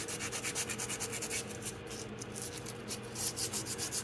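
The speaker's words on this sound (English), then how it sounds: "I should clean up the area, the mating area for the rotor." A rag or brush scrubs steadily at the rotor mating surface of a 2005 Jeep Laredo rear hub, giving a close, quiet, rhythmic rubbing with no talking.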